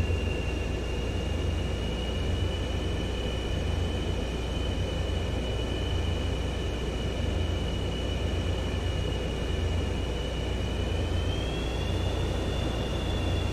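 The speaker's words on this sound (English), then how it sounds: "Thank God for afterburners." A Super Hornet jet's afterburner roars in a flight simulator game on a Hawaii strike mission, a constant, loud, close engine rumble with a high whine that rises slightly in pitch near the end.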